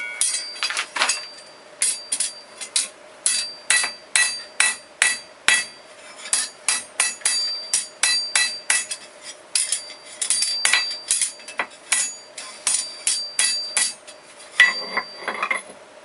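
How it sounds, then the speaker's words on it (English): Hot metal ring for a garden obelisk struck with a hammer on an anvil to level it: a steady run of sharp, ringing metallic blows, close and loud, repeated in quick succession with brief pauses and no talking. "I'm going to try and knock this down here on the anvil and get it level before we can weld it up"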